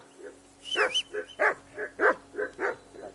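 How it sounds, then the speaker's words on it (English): A dog barks repeatedly in a steady series of sharp yaps, fairly close, with a faint electronic hum underneath, in the video game Kingdom Come: Deliverance II. "Whistle at that mutt of yours to stop barking!"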